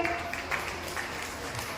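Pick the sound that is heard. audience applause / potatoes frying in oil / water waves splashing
audience applause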